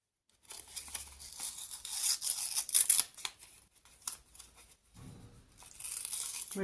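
Paper flaps torn off recycled envelopes in short close rips and crinkles, several quick bursts with brief pauses between, no talking.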